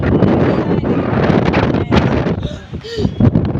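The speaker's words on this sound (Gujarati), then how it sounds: "હા, વાવાઝોડા જેવી હવા આવે છે." Strong gusting storm wind buffets the microphone in a steady roar during a summer thunderstorm with lightning, with voices talking underneath.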